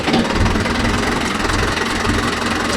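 A Mahindra Yuvo Tech Plus 585 4WD tractor engine runs out in a cotton field, a loud, dense, steady rumble up close with a knocking mechanical texture throughout.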